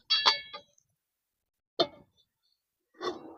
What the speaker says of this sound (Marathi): आता फोडणीला कढई ठेवून घेऊ चुलीवर